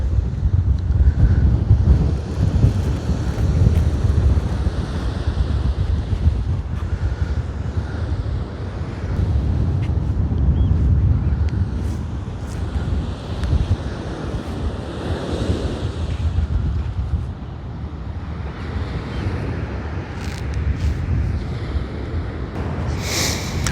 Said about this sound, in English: So this is Vigdel beach. Very tiny beach